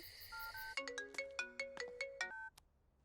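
A phone emits a steady tone, then a melodic electronic ringtone plays in a quick series of bright chimes for about two seconds, faint and clear with no talking.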